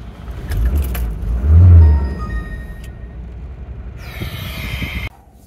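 Engine of a Volvo 740 car running with the throttle held open, a steady loud mechanical roar with a higher whining rush late on before it cuts off abruptly.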